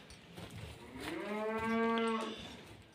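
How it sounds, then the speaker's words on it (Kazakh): A cow that has slipped its tether and climbed into the feed trough lets out one long, loud, close moo that rises and falls in pitch across a few seconds. "Міне мына сиыр қашып шығып,"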